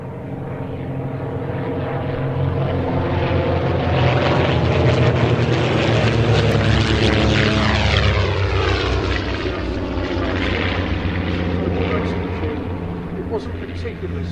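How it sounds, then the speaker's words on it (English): A de Havilland Comet racer with two 230-horsepower Gypsy Six engines runs on the runway at Old Warden, a loud sustained propeller drone that swells and shifts in pitch as it passes, with someone talking over it. "that Comet's powered by two 230 horsepower Gypsy 6 engines"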